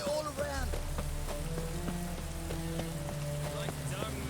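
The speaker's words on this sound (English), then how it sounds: "It's raining again." Steady rain in The Witcher 3 patters continuously beneath tonal background music, forming an even, close wash with faint scattered drops.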